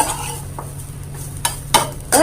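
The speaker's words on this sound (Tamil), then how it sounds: "தேங்காவை ட்ரை ரோஸ்ட் பண்ணிக்கலாம் ட்ரை ஆகணும் அந்த மாதிரி நல்லா வறுத்துக்கோங்க" Grated coconut dry-roasting in a pan, sweet kozhukattai prep: a low steady hiss with a few sharp scraping stirs and clinks of a spoon against metal, close and fairly quiet, no voices.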